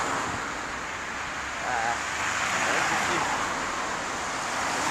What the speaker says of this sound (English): if you can't hear me, it's because of the fucking traffic